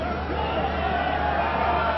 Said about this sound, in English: A roar from the crowd as they're being called in